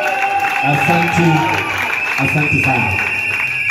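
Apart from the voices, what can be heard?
applause in church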